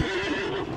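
Horse in the Conan Exiles video game lets out one short, loud, close whinny.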